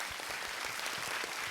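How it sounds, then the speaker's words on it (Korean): Audience in a public science lecture hall giving a round of applause during a Q&A session, a steady, even wash of many hands clapping, heard at a moderate distance and fairly soft. "박수 한번 보내주십시오"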